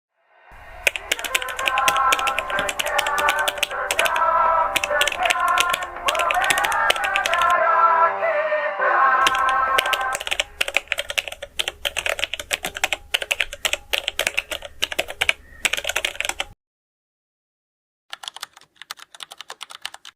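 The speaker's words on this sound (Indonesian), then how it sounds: "Saya akan mengetik naskahnya." Rapid, continuous typing clatters on a keyboard or typewriter, dense keystrokes running for most of the stretch, pausing briefly, then ending with a few scattered taps.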